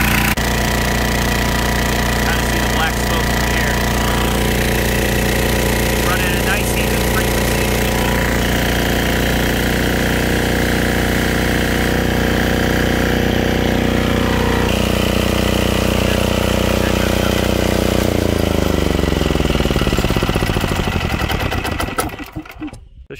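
A portable generator engine runs loud and steady but slightly rough, with a hammering, uneven mechanical chug. It slows and dies out at the very end.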